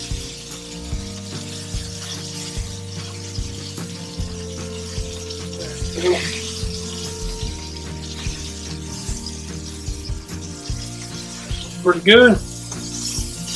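Meat fat frying and sizzling in a pan for an Appalachian breakfast, a steady crackling hiss running throughout with clinks and scrapes, a brief voice near the end.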